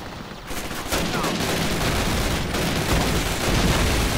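Dense, rapid gunfire crackles continuously at close range, a loud sustained barrage with booming bursts, from the video game Call of Duty: United Offensive.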